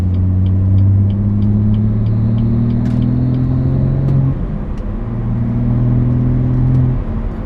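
BMW 340i with a six-speed manual driving, a loud close engine drone rising in pitch through gears, with a shift break midway before climbing again, plus faint rhythmic ticking above the engine.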